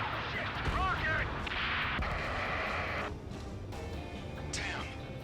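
Rocket explosions and heavy blasts rumble through the Ace Combat 7 flight combat game, loud continuous booms and crashes with game radio chatter mixed in.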